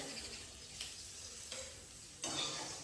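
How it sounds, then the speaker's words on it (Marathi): Onion roasts in a pan, a faint continuous sizzle with a few soft scrapes of stirring and a louder hiss near the end. "त्याच्याकरता कांदा ते भाजून घेते"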